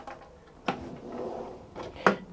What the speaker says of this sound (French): Et là, encore des tiroirs plus courts.